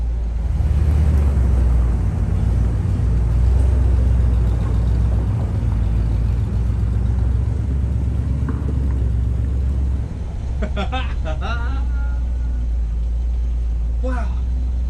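An abandoned 1974 fire truck's engine runs with a loud, steady low rumble as the truck gets moving, while people talk excitedly over it and a few clatters sound near the end.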